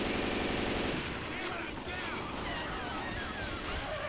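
Heavy automatic gunfire in the zombie shooter Left 4 Dead 2, dense rattling bursts over a loud, chaotic game mix.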